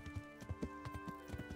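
Horse hooves clip-clopping at a quickening pace in the video game Kingdom Come: Deliverance, a steady run of close, thudding beats under a constant musical drone.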